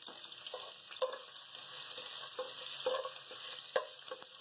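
Curry leaves, ginger-garlic paste and cumin seeds sizzle steadily in hot oil, a continuous bright crackle with occasional sharper pops and light stirring scrapes, close and alone without talk.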